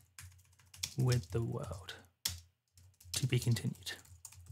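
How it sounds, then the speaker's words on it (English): Quick bursts of computer keyboard typing, with clustered clicks close to the microphone, alternate with someone speaking. "If I can type."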